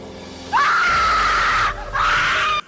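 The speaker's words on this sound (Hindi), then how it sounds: "ये चिल्लाने वाला साउंड भी डाला रखा है इसने" A loud, sustained scream effect for a horror story about a witch in a red sari, one long wail broken by a brief gap before a second cry that cuts off abruptly.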